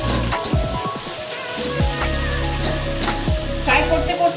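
Ginger garlic paste, one spoonful, sizzles and fries in hot oil, a steady close hiss with scraping stir strokes throughout, no talking.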